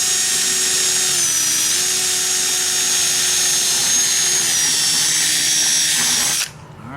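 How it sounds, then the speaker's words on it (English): A power drill boring a pilot hole in the wall of a DIY travel trailer for an AC inlet, a loud steady whine held for about six seconds before it cuts off sharply. "go ahead and drill a pilot hole"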